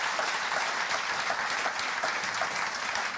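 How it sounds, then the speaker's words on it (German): A studio audience at a cooking show gives thunderous applause, a thick, even wash of clapping that holds steady throughout. "wir begrüßen zunächst mal mit einem donnernden Applaus die Sonnenblume aus Luxemburg"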